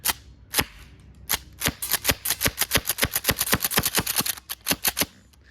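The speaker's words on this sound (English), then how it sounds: "we're just gonna hold down the trigger and I'm going to begin pumping, and I'm not gonna release the trigger" A Jag Arms Reaper airsoft shotgun slam-fires with each pump stroke, producing a rapid run of sharp, close cracks, sparse at first, then tightly spaced and steady.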